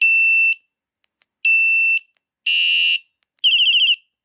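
A Fosmon bicycle alarm triggered from its remote sounds four loud, close, shrill electronic tones, each about half a second long with short gaps between them: steady beeps at first, then a buzzier tone and a fast warbling one.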